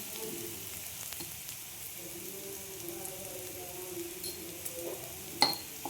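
Turmeric and ground spices frying in a pan, with a soft, steady sizzle throughout and a faint clink of a utensil near the end.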